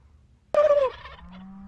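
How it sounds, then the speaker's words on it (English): A young wild turkey jake lets out one loud, close gobble, a sharp rattling burst that trails off quickly, followed by a faint low steady tone in a quiet outdoor setting. "They made lots of sounds beside gobbles."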